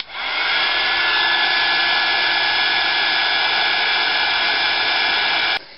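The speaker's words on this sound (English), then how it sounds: "I'm just going to heat set this" A heat tool blows a steady, loud whooshing hum while heat-setting embossing powder on a craft tag, starting abruptly and cutting off after about five and a half seconds.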